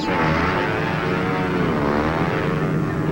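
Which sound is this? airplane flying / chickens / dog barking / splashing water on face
airplane flying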